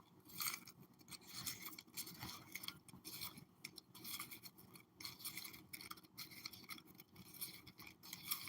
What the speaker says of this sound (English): we're just gonna shuffle some of these cards